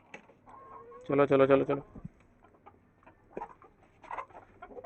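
A red rooster and hens around a backyard coop give a loud, brief call followed by scattered soft clucks, while someone speaks nearby.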